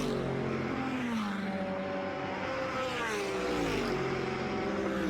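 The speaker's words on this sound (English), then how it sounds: "he's trying to get that power down in that V8 engine" Ferrari V8 GT race car engine on track at a Canadian Blancpain GT World Challenge race, a sustained loud drone with pitch shifting through gear changes, close and continuous.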